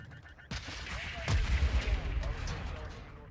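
Artillery fire in the Call of Duty Modern Warfare 2 campaign: a sharp blast, then a heavier deep boom with a rumbling tail, closely followed by further rolling explosions.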